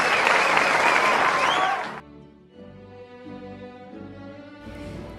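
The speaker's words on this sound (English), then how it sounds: "Let's give Miss Cecilia Cortez another round of applause." A burst of applause for a kindergarten teacher at a graduation ceremony, full and steady for about two seconds, then cutting off abruptly into quiet tonal background sound.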